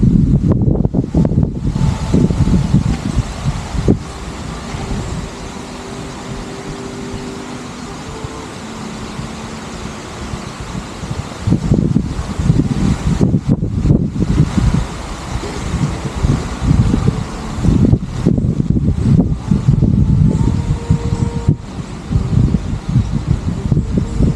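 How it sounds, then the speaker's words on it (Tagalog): Strong, gusty wind roars and buffets the microphone continuously at a motorcycle campsite in Zambales, with rustling and flapping surges throughout. "Lakas na ng hangin."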